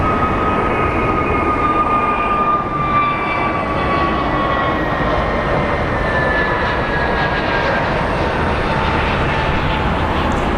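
Jet aircraft roar at Phoenix Sky Harbor International Airport, a continuous broad rumble with a slowly drifting engine whine, steady and fairly close throughout.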